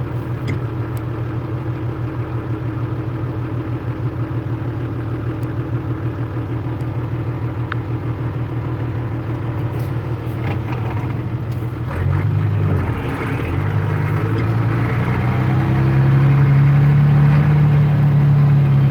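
A truck engine runs close by, a steady low rumbling idle that grows louder and deeper toward the end as it revs or pulls nearer, with no talking over it.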